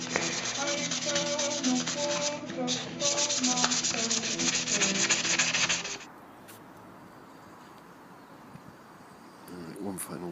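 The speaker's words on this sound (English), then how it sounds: "Just some 600 grit." Hand sanding a metal bracket with 600 grit sandpaper: rapid rhythmic back-and-forth scrubbing strokes, close and loud for about six seconds, then stopping into quiet room noise.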